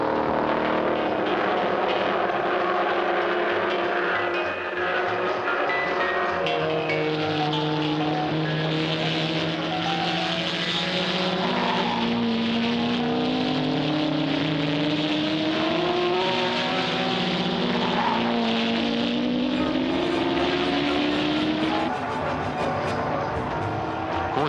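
Nissan R381 and Lola P70 race cars racing, engines rising and falling in pitch as they rev through gears and pass, loud and continuous over about 25 seconds with no talk.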